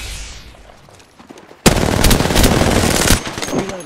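Sudden loud automatic gunfire breaks out in a video game shootout after a quiet stretch, a dense rattling burst of about a second and a half that trails off into scattered shots.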